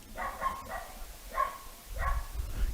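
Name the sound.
dog barking nearby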